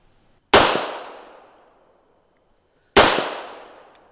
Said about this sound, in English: we'll take a couple shots here